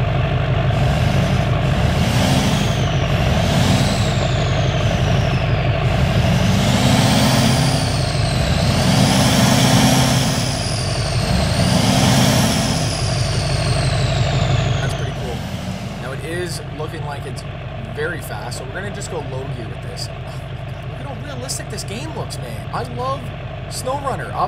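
A lifted Chevy Duramax diesel truck engine in SnowRunner revs loudly in neutral, rising and falling in several sweeping pulls for about fifteen seconds before settling to a lower idle rumble, with talk over it.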